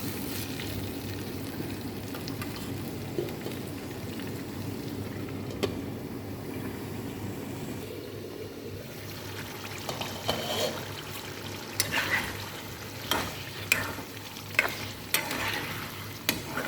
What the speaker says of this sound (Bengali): আমার মরিচটা কষানো হয়ে গেছে, এখানে চিকেন দিয়ে দিলাম।